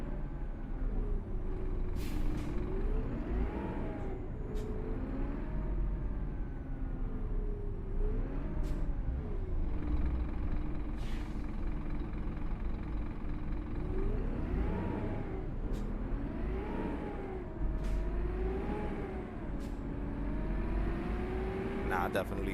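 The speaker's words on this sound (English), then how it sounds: "Plus the sounds, like the bus I'm driving now, the Prevos, that sound is amazing." A Prevost bus in the American Truck Simulator video game: a steady, loud engine drone with rising and falling pitch runs throughout, with a few short hissing bursts like air brakes, and someone talks over it.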